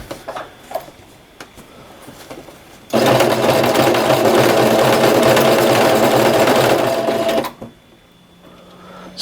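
A sewing machine stitches a patch onto a jersey in one loud, steady run of about four and a half seconds, with soft handling sounds before and after.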